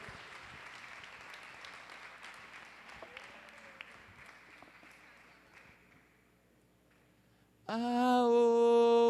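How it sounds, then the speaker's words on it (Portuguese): A church congregation applauds the Lord during a service, a steady wash of many hands clapping that slowly fades and then gives way to a loud, sustained keyboard chord. "Aplauda ao Senhor"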